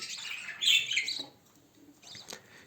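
Budgerigar chicks chirp inside a breeding box, a close burst of high, raspy chirping followed by a quieter pause and a few shorter calls.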